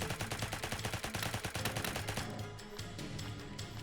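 Fire imps exploding in a fast video game firefight, a rapid string of sharp bursts like machine-gun fire, dense and rhythmic at first, then thinning into scattered blasts over a droning score.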